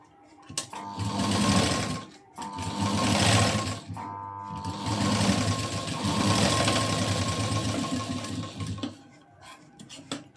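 Sewing machine stitching the curved front neckline of a blouse, running in long steady bursts with brief pauses between them, loud and close with a constant motor hum and rapid needle chatter.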